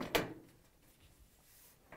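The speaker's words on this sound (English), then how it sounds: "And close the door." A Bosch dishwasher door with one side panel removed shuts with a single sharp knock near the start, followed by quiet and a faint second tap at the end.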